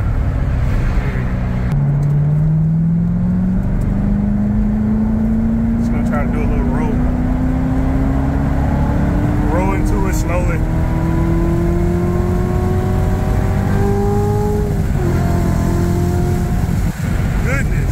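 A Corvette Z06 fitted with an MGW short shifter accelerates onto an expressway. Its loud, close engine note climbs steadily in pitch through a long pull after a shift, with voices in the cabin under the engine.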